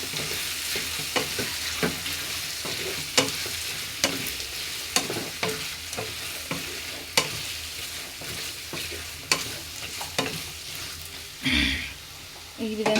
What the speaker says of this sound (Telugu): అల్లం పేస్ట్ వేసుకొని మళ్ళీ ఇంకొకసారి బాగా కలిపేసుకోవాలి